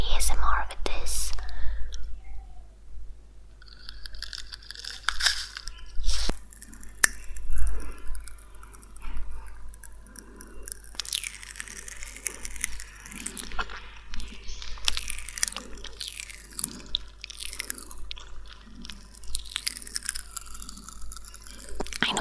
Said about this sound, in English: This is the popping candy, and I'm going to try and do a kind of ASMR with this.